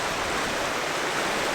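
A waterfall by a bridge in Glen Lyon in the Scottish Highlands in awful winter weather, a steady, dense broadband rush of falling water without pause or voices.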